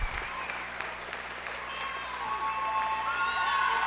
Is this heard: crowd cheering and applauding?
yes